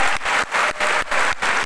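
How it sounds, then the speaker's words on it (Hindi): Audience applause at a health supplement company gathering, a dense broadband clapping wash with brief rhythmic dips, loud and close, with no talk over it. "देखो आप जोरदार ताली बजा दीजिए अपने लिए"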